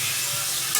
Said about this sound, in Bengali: এখন আমি এই যে পুঁটি মাছগুলো দিয়ে দিব